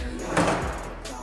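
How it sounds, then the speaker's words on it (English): A self-closing kitchen drawer in an empty apartment slides shut with a soft, short thud near the start, followed by faint room tone. "another thing I love about this apartment is the drawers. And I say that because they close on their own."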